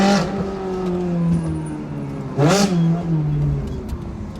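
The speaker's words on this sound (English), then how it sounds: "I like to let the engine do the talking," Ferrari supercar engine revving, rising and falling pitch with a sharp burst of revs midway, loud and close with no talk.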